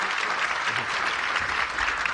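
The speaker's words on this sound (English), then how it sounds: "Big round of applause, please, for our news creators today." A conference room full of people claps steadily, a dense even patter of applause with no voices.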